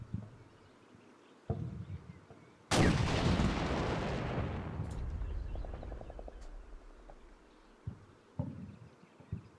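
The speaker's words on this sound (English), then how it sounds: "that was just the other BMP exploding" A BMP armoured vehicle blows up in the Combat Mission: Black Sea war game as a sudden loud blast that rumbles and fades over several seconds, followed by a crackling burst and scattered gunfire thumps.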